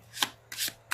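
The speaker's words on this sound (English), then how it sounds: "Let's pull a challenge card." Tarot cards drawn from a deck, three short papery riffling swishes about a third of a second apart, close and quiet.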